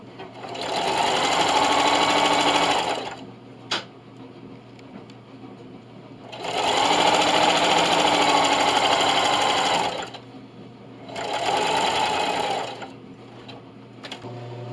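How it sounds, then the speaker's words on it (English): A sewing machine stitches in the ditch along a double mitt hotpad, running in three loud, steady bursts of rapid mechanical whirring separated by short pauses with faint handling clicks. "And all I'm going to do is sew right in this ditch here."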